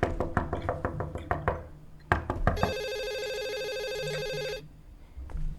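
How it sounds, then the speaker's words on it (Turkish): Telephone rings in the horror game Hazing Night Shift, a steady electronic ring lasting about two seconds after a run of sharp knocks and thuds, fairly loud and alone. "Telefon çalı bakalım."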